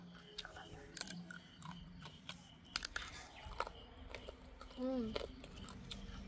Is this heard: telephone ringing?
no